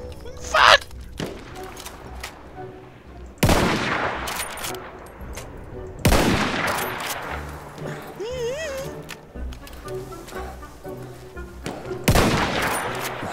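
Gunfire in the World War I shooter Battlefield 1, with sharp bursts and rapid shots scattered across the clip, several loud blasts standing out over a busy battlefield bed while voices talk and shout.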